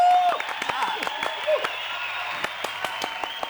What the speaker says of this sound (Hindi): गोपीनाथ गंडोत्रा के लिए तालियां।